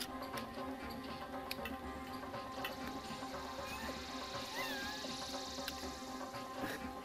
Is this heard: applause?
no